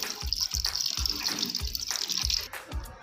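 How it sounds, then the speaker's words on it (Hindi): Water, about two liters in all, pours steadily into a pot for daal after cooked chicken has gone in, a continuous splashing gush with rhythmic surges. "अब पानी शामिल करेंगे।"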